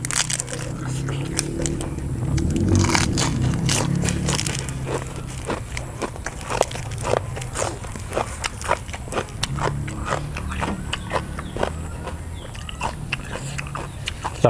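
Crunchy bites and chewing of big, firm-fleshed sweet sea snails dipped in spicy seafood sauce, many sharp close crunches in an irregular rhythm that runs throughout, with faint background noise.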